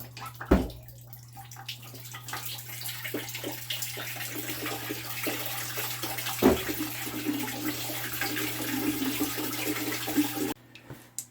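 Water drains out of a homemade cutting booth machine as it is lifted and tilted, a steady close rushing trickle running continuously with a couple of sharp knocks, then cutting off abruptly near the end.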